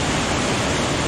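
Steady broadband roar of a waterfall in Mindanao, Philippines, running at high flow, loud and close with constant rushing water and no other sound.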